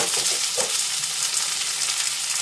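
Tomato, cashews and raisins fry together in a hot pan, giving off a steady, close sizzle with a brief crackle early on and no talking.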